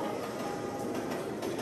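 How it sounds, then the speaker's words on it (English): A faint, steady rumble of a train played over loudspeakers in an abandoned train tunnel in Brockville, Ontario, with a low continuous clatter and no voices. "Did you hear the train sound on the speakers?"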